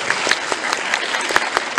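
Audience applause at a convention talk at the Ludicomix comics festival in Empoli, a steady burst of clapping from a crowd in a hall, close and fairly loud with no talking over it.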